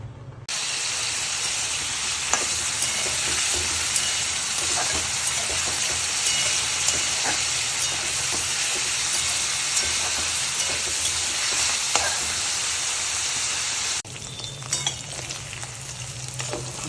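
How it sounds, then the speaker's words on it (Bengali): Loud, dense sizzling and crackling of paneer frying in hot oil, steady for a long stretch before easing to a softer sizzle near the end. "তেল গরম হয়ে গেছে এবারে পনিরগুলো হালকা ভেজে নেবো"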